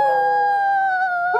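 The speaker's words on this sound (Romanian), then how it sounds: "Nu sunt javre, sunt câini." Dogs give a loud, close, sustained howl with steady drawn-out tones that slowly bend downward, with a brief yip at the end.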